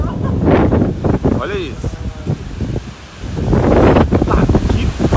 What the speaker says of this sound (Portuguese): Que vento mais louco é esse?